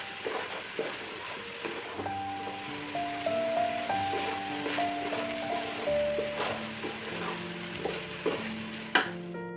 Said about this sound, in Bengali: ঘির ভিতর দিয়ে ভালো করে হচ্ছে নাড়াচাড়া করে একটু ৪ থেকে ৫ মিনিটের মতো হচ্ছে চালটাকে ভেজে নিব